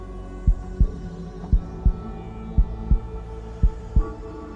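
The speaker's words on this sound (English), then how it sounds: "Can you hear her heart beating?" A heart beats slowly in paired thumps, about four double beats at an even pace, low and distinct over a steady hum.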